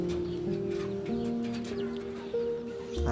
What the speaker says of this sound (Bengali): এখানে মুরগিগুলো বেশি ডাকাডাকি করতেছে, কারণ খাবারের সময় হয়ে গেছে তো